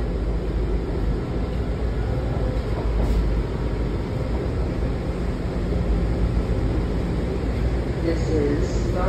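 A Washington Metro train at Largo, the last stop, gives off a steady rumbling drone with broadband hiss, constant and fairly loud throughout, with a few faint voices underneath.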